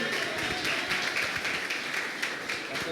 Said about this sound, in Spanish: vamos a darle un fuerte aplauso al Señor que trae su palabra a través del pastor Martín Soler